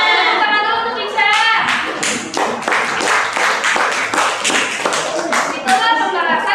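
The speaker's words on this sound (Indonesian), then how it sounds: "Tepuk tangan dulu untuk Ica." Several hands clap in a steady rhythmic pattern, close and loud, with children's voices mixed in at the start and end.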